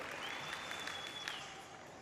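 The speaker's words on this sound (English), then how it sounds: "Plenty of crowd support there." A crowd applauding at an athletics track meet during the triple jump, a steady wash of distant clapping that holds evenly and fades slightly toward the end, with a faint voice under it.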